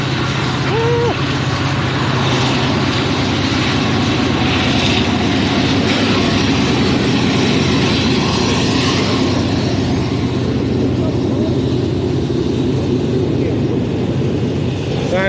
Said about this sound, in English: Sorry to yell at the train for being too loud.